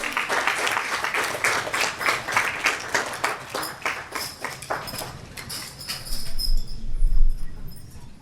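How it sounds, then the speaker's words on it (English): Loud applause from a crowd at a school governing board meeting, dense clapping that gradually thins and fades toward the end. "let's give these students a great big round of applause"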